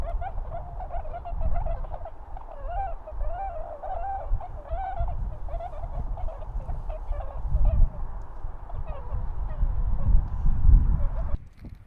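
A flock of Bewick's and whooper swans calls continuously, a chorus of honking, bugling notes over a low rumble of wind, some birds close and others farther off.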